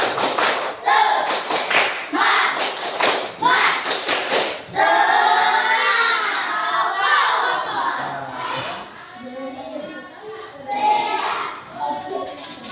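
A class performs rhythmic spirit clapping, sharp grouped claps in a fast pattern, then the group breaks into loud cheering and shouting voices together.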